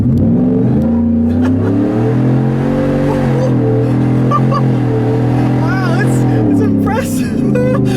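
A supercharged Ford F-150 pickup accelerates hard down a straight road, its engine note climbing steadily and loud throughout with a rising supercharger whine, heard from inside the cab.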